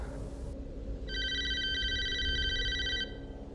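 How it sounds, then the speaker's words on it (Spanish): A telephone ringtone chimes from about one second to three seconds, a steady repeating electronic ring over a low background hum in a quiet room. "volví a escuchar el tono de llamada"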